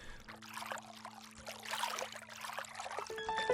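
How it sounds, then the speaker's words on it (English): A short water splash and whoosh from swimming in the indie video game Nectar, soft and airy with trickling texture under a steady game music tone, faint and continuous for a few seconds. "When I'm swimming in water, it does a little splash whoosh sound."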